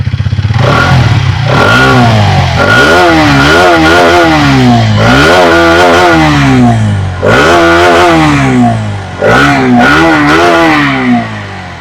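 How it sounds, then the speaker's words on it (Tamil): A Hero Xtreme motorcycle engine revs hard in repeated rising and falling bursts, loud and close, with a raspy exhaust note from the silencer and no talking. "இந்த சைலன்சர் சவுண்டு, நான் உங்களுக்கு சவுண்டை மட்டும் காட்டுறேன், நீங்க பாருங்க."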